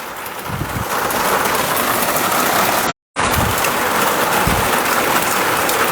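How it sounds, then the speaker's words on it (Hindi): Heavy rain in Jammu and Kashmir pours steadily, a dense, even hiss with no voices, briefly cut off by a short silent gap midway. "बारिश जो है वो थमने का नाम नहीं ले रही।"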